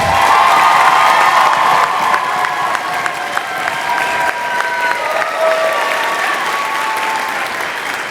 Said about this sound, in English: Please, one more round of applause for our 8th graders.